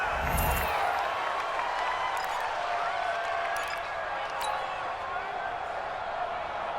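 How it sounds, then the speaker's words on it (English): A large video game stadium crowd at an American football game roars steadily and continuously at a distance, a broad wash of cheering noise with no breaks. "Listen to this crowd now."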